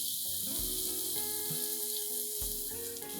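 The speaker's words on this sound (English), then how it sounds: "Fry all these ingredients till the onions are translucent and soft." Onions frying with ginger and garlic paste in a pan, a steady bright hiss of sizzling oil running throughout, close and even, with faint tonal background underneath and no talk.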